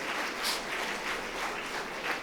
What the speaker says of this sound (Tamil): ஒரு ஆனுவல் டே, ஒரு பலத்த கைத்தட்டுங்களேன் எனக்கு.